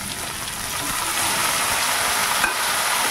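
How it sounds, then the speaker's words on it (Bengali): Shrimp hitting a hot pan with onion and green chili, a loud sizzle that swells after the first second into a steady, close crackle with faint stirring and no talking. "পেঁয়াজ কাঁচা লঙ্কা দিয়ে দিয়েছি, দিয়ে এবারে দেখো চিংড়ি মাছগুলো দিয়ে দিচ্ছি।"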